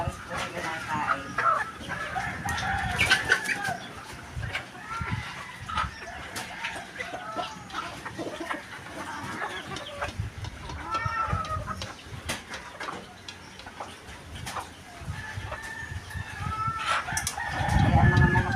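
Farm chickens clucking and a rooster crowing around feeding time in the morning, busy and close, with scattered calls overlapping and a voice speaking at times amid the flock.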